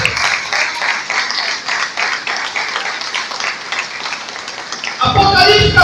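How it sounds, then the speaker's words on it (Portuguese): Congregation clapping in a church service, a rhythmic crowd applause for about five seconds before voices and music take over loudly at the end. "Quem crê nisso pode aplaudir o Senhor Jesus."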